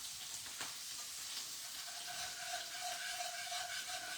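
Caramel and fat sizzle steadily in a pan while being stirred vigorously for a mirabelle plum tarte tatin, a continuous bright hiss with a faint tonal whine joining partway, close but soft, no voices.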